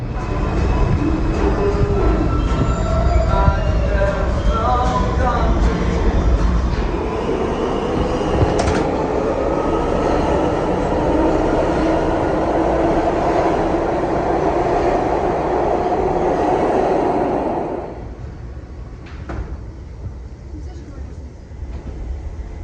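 A New York City subway train roars loudly and steadily for most of the clip, with rumbling wheels and rising tones, then cuts off to quieter station ambience near the end.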